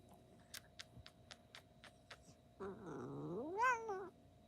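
A cat lets out a drawn-out, rising and falling angry meow, faint and close in a quiet room, preceded by a few soft ticking taps.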